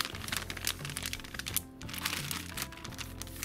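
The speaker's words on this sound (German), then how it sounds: "Jetzt mache ich einfach die Tüte hier zu." Plastic crinkles and crackles close by in a continuous series of rustles as a bag is handled and closed.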